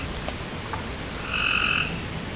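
Frogs croak outdoors at an RV campsite, with several short croaks and one louder sustained trilling call, fairly near, heard alone against a low steady background.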